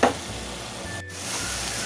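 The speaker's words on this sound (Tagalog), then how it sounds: "hayaan lang muna natin siyang magisa ng mabuti ha" Alamang shrimp paste sizzles in a hot pan, a brief sharp crackle at the start followed by a steady hissing fry, close and alone.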